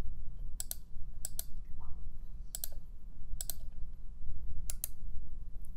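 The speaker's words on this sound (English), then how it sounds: "Let me left click on that one again." A computer mouse is left-clicked again and again during work in Google Slides. About five crisp, close double-clicks ring out at irregular intervals over a steady low hum.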